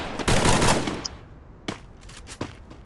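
Gunfire in a mobile battle-royale shooter: a dense, loud burst of automatic fire, then two sharper separate shots against quieter distant crackle.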